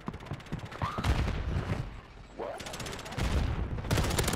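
A RAM 7 assault rifle firing in a video game, with rapid bursts of sharp automatic shots in several stretches separated by short pauses, loud and close and mixed with game effects.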